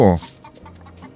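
Chickens in the video game Force of Nature 2 clucking, a short burst of close, loud clucks followed by softer scattered clucks.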